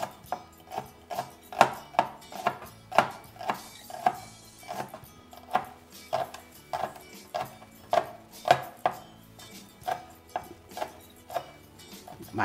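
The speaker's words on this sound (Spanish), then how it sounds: "vamos a picar el cebollín" A knife chopping chives on a cutting board for a lasagna, about twenty crisp steady knocks in an even rhythm, close and clear with no talk.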